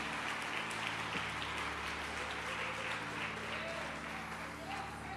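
A church congregation clapping together at a worship service, sustained applause throughout with a voice speaking over it.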